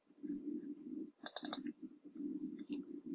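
A computer mouse gives a quick double click, sharp and close over a low steady hum, followed a moment later by a single faint click.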